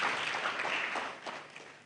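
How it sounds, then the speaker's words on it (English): Audience applause for two speakers at a public forum, a steady wash of many hands clapping throughout, moderately distant and fairly soft. "Another round of applause for them"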